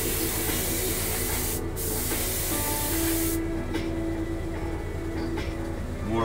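Airbrush or spray can laying a slow, wet coat of paint onto a plastic model car body, a steady close hiss running the whole time with brief dips and restarts, no talking.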